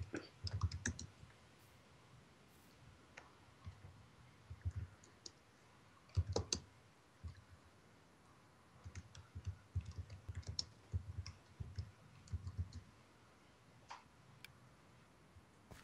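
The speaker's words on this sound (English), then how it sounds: "I can't type and talk at the same time" Typing on a PC computer keyboard during a Minecraft session comes through as faint, scattered bursts of clicky keystrokes, irregular clusters separated by quiet pauses, with no talking.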